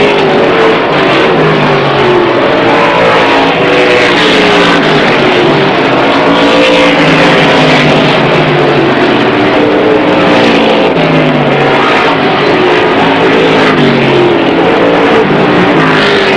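Race cars roar around the track at Airborne Speedway during a 1998 race, a loud, continuous engine drone that rises and falls slightly as the field circulates, with no voices over it.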